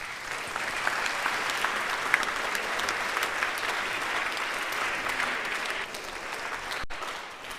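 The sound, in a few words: audience applause welcoming speaker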